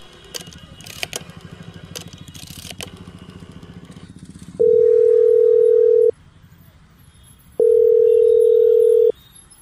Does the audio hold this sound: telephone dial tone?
yes